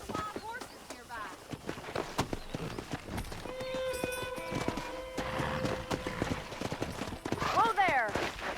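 In Red Dead Redemption, a pack of wild horses gallops nearby with rhythmic hoofbeat clip-clops and a whinny. A voice talks over the scene and music tones sound in the middle.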